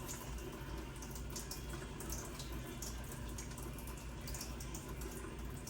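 Hands being washed under a running tap at a sink, a continuous steady stream of water with faint splashing and rubbing, close and even throughout, no talking.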